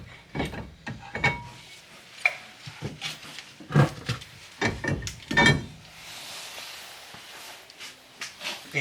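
Brake caliper and disc rotor being removed from a Nissan 350Z: a series of close, irregular metallic clanks, knocks and scrapes with pauses between them, followed by a quieter stretch near the end.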